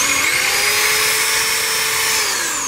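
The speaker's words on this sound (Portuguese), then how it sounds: "Eu estou abrindo o vão da tampa, com essa broca aqui" A power drill bit boring out and widening the valve hole in a pressure cooker lid, a loud continuous whining grind with steady high tones held through the whole stretch, no talk.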